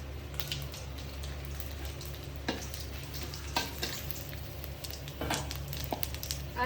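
Bay leaves dropped into hot oil for a Bengali village-style chicken curry, a low steady sizzle with occasional sharper crackles and clinks, close but fairly quiet.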